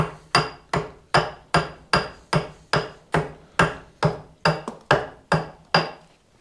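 A hatchet with a pitted, worn bit hews a hickory bow stave in about fourteen evenly spaced, sharp chopping strikes, close up and with no talking.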